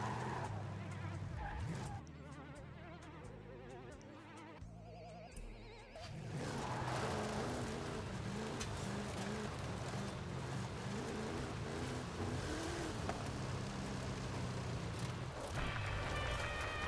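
Car driving in Forza Horizon, a steady engine drone with tyre and road noise running continuously after a brief quieter start, under a speaking voice.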